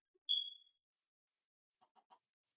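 A Minecraft chicken gives a short, high cluck, followed a moment later by three soft, quick clucks in a quiet setting.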